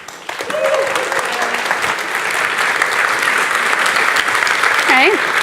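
Sustained audience applause welcomes a speaker onstage at Responsive Field Day 2015, a steady dense clapping wash filling the room throughout, with a brief voice and faint whistling tones near the end.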